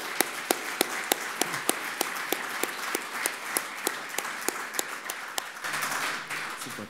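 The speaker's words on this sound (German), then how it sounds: "er hat einen Applaus verdient." Audience at an investing talk applauds steadily, with crisp individual claps standing out over a dense wash of clapping that swells slightly near the end.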